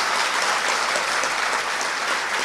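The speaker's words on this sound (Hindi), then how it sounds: "ताली बजाकर स्वागत करो।" An audience claps to welcome a guest at a Bageshwar Dham religious gathering in London. The applause is dense and continuous, loud and close, with no voices over it.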